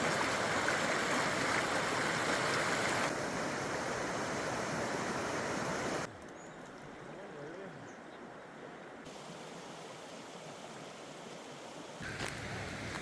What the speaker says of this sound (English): Just got to a creek